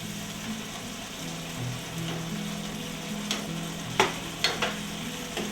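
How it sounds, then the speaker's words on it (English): Meat and tomatoes cooking together in a pan for a Mien noodle meat sauce, a soft steady sizzle under a low hum, with a few sharp utensil clicks and scrapes near the end. "Next, we'll go ahead and put in the tomatoes. Get the tomatoes to soften."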